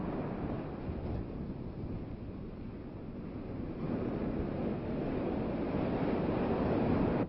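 Shore break waves on an Oahu beach roll and crash in a continuous heavy roar, swelling louder toward the end, with wind buffeting the microphone.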